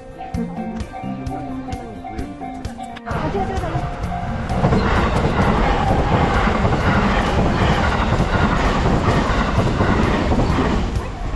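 A train rumbles past close by in Arashiyama, Kyoto, a loud, rising roar of rolling wheels and rattling cars that builds and holds, with people talking over it.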